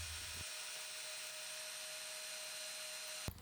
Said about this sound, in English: every time I drill a difficult hole, I hit it perfectly freehand